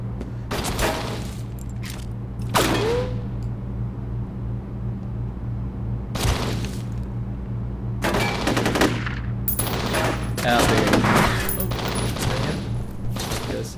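Gunfire in the video game F.E.A.R. comes as several separate sharp bursts of automatic shots, loud and close, broken by quieter gaps over a constant low hum, with no clear speech.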